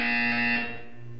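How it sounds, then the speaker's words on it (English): A Portal 2 video game buzzer sounds once, a loud electronic tone that holds for about half a second and then fades. "You will hear a buzzer. When you hear the buzzer, look down at the floor."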